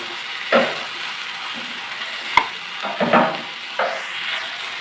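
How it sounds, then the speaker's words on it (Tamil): Vegetables sautéing in a pan on the stove for a sandwich filling give a steady sizzle, broken by a few scraping stirring strokes and one sharp tap of a utensil. "வத்தட்டும் அது வரைக்கும் அடுப்பில் இருக்கட்டும் காய்கறி வந்து ரொம்ப வதக்க வேண்டாம்"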